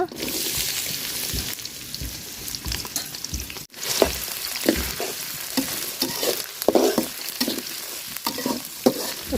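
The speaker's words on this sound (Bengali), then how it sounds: "পাতিল গরম হয়ে গেছে তেল দিয়ে দিলাম মাংস রান্না করার জন্য" Onion with cardamom, cinnamon and bay leaf fries in hot oil in a pot for chicken curry, a close, steady sizzle with utensil clatter and stirring scrapes and a brief dropout partway through.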